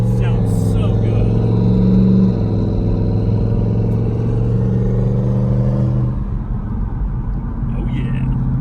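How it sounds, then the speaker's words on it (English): A single-turbo 2018 Ford Mustang GT at wide open throttle, its engine rumbling loud and close with a thin turbo whine, then easing off near the end, while voices talk over it. "Listen to that turbo, bro. Sounds so good."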